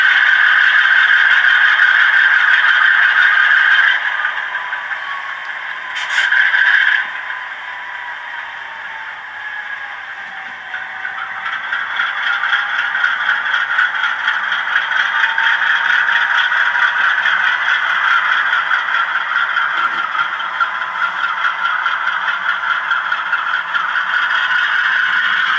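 A Korea Brass U25C model locomotive fitted with a TCS WOWsound decoder runs steadily, giving a continuous engine drone with a horn-like tone and changing pitch, a louder burst near the start, close and alone.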